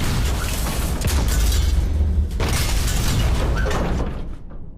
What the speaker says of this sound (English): You're just trapped in this tin can with explosions that are shaking your boat.